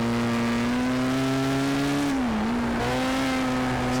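A BAC Mono race car in the Project Cars video game slides into oversteer, its engine a steady, close drone that dips briefly in pitch mid-slide and then recovers.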